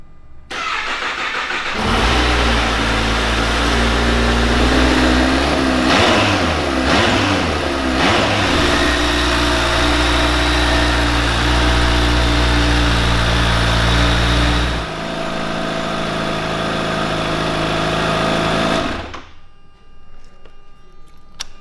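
A supercharged Kawasaki Ninja H2 SX motorcycle engine starts, revs up several times in quick bursts, then holds a loud, steady roar before cutting off abruptly near the end.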